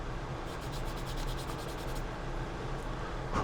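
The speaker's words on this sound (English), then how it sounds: "I like to use our sanding sticks here." A sanding stick of 180 to 800 grit worked over a part from a Revell 1/25 Bronco scale model. Quiet, close, rhythmic rubbing strokes with no talk.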